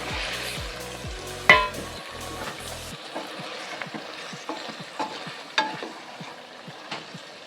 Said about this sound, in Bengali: এখন ঝোল ফুটে গেছে, এখন এই যে কাঁচা কলার বড়াটা